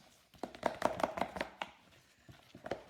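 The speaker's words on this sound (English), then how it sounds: "I'm mixing it up so you get everything mixed together nicely, and it should be a fairly loose mix." A spoon or hand stirs a loose poolish bread starter in a bowl, making a quick run of soft wet slaps and taps, close up, with a short pause before more strokes.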